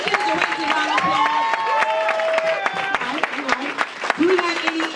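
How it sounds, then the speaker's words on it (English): Applause and cheering from a crowd at a Total Life Changes company event, with sharp clapping throughout and voices shouting over it at close range. "Let's give the directors a round of applause."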